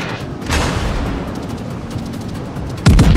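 Battleship 15-inch shell fire striking in World of Warships, a series of heavy booms and impacts over a rumbling background, ending in one loud, close blast.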